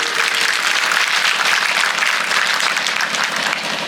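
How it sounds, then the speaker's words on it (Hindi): Loud, sustained applause from an audience at a Hindu devotional katha on Krishna's childhood, steady dense clapping filling the whole stretch with no voices over it. "एक बार जोरदार ताली बजाओ।"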